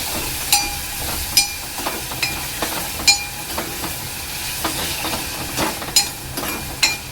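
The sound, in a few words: tomato mixture sautéing in oil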